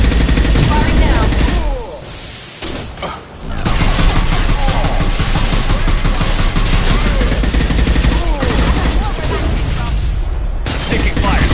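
Loud, sustained automatic gunfire in a Mass Effect 2 Legendary Edition firefight on Insanity difficulty. Rapid volleys and booms pour out almost nonstop, briefly dropping off once, with voices partly buried under the shooting.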